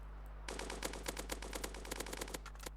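An assault rifle in the Dusty Trip game fires a steady rapid burst of evenly spaced shots lasting over two seconds, quiet in level against a constant low hum.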